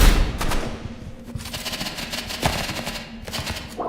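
Gunfire in a shooter video game, including a sniper's shots, comes as rapid rattling bursts and sharp cracks throughout, fairly close and continuous with no talking.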